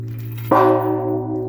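A large bronze temple bell at a Buddhist temple is struck once, a sharp attack blooming into a long humming resonance with steady overtones that slowly decays.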